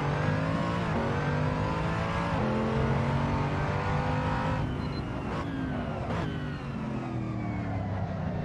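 Original Mercedes-AMG GT3 in Assetto Corsa Competizione, the engine note rising through the gears with a few quick shift dips and a sharp downshift blip, loud and continuous, no talking.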